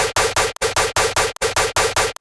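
A thick, gritty dubstep bass distorted through an amp plugin on heavy at 26% pulses in a tight repeating rhythm, loud and dense, with only brief breaks between hits.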